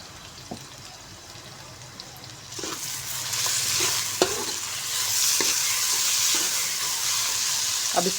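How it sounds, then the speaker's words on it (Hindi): Garlic-ginger paste frying in oil in a pan, quiet at first and then swelling into a steady, close sizzle with scattered pops and light stirring clicks, no talk over it. "हम फ्राई करेंगे ताकि लहसुन अदरक जो है इसका कच्चापन दूर हो जाए"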